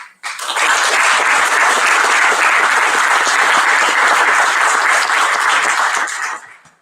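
Sustained audience applause at an Italian book event, loud and steady for about six seconds, dense clapping from a crowd that starts abruptly and fades out at the end.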